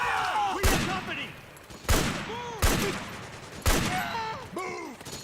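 Gunfire in the video game Metal Gear Solid 4 cracks out in four loud, separate bursts, each followed by a ringing tail, with shouted in-game voices heard between the shots.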